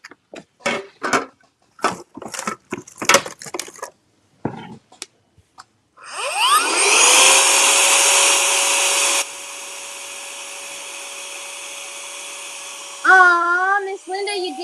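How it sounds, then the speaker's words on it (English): A vacuum cleaner switches on after speech and spins up to a steady loud whine while steel wool bits are cleaned up from a cigar box craft project, then the pitch drops, with wobbling tones near the end. "And then I'm going to get the vacuum."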